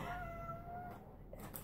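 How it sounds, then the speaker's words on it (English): A male cat meows in the background of a quiet indoor room, two thin drawn-out cries, faint and steady throughout. "You can hear him meowing in the background."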